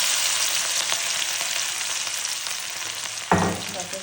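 Green chillies and curry leaves sizzle steadily in hot oil over cumin seeds, a dense, close hiss that flares sharply louder near the end as more goes into the pan.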